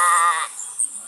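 A short goat bleat in the video game The Wolf rings out close and loud, then cuts off, leaving a steady hiss behind.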